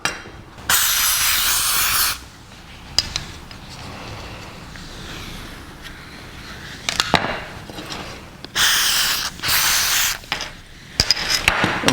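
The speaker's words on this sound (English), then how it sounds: "So we'll spray them up with some penetrating oil." Penetrating oil sprayed from an aerosol can onto stuck taillight bulbs on a 1949 Chevrolet gasser, heard as several loud, close hissing bursts of a second or two each, with short pauses and faint clicks in between.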